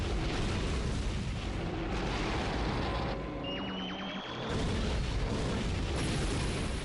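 A battleship being destroyed in a Godzilla video game, heard as a dense, loud, continuous roar of explosions and rumbling booms that briefly dips before surging again, no speech.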